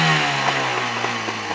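A two-stroke Benzi outboard motor idles close by with a buzzing, slightly uneven putter and no voices.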